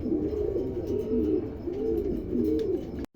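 Pigeons coo in a repeated, rolling rhythm, four or five low warbling phrases close by, ending with a brief click.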